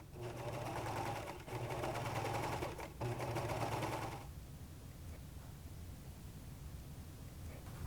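A serger sewing a flatlock hem hums steadily at a fast, even rate for about four seconds, briefly pausing twice, then stops, leaving quiet room noise.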